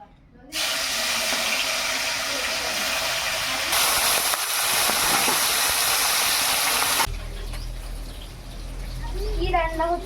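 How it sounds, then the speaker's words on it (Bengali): Rohu fish pieces drop into hot mustard oil in a kadai and set off a loud, steady hissing sizzle for several seconds. A voice is heard as the sizzle fades. "তেলটা গরম হয়ে গেছে, এবার আমি মাছগুলোকে ভেজে নেব।"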